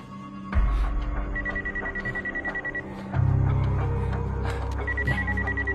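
A telephone rings loudly with repeated electronic trilling bursts, mixed with a sustained low hum and other sounds, with no talk over it.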